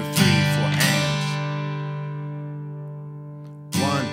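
Guitar chords strummed in quick strokes, one chord left ringing out at length before another burst of strumming begins.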